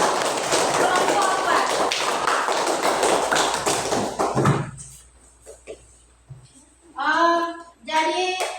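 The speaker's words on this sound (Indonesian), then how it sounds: "Tepuk tangan untuk kelompok" Students in a classroom clap for a group for about four seconds, a dense, fairly loud patter of hands that stops abruptly, followed by quiet thumps and a voice speaking.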